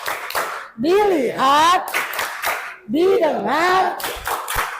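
A classroom of children doing the rhythmic tepuk konsentrasi clapping game, with sharp unison hand claps in a steady pattern between two stretches of chanted, sing-song group voices.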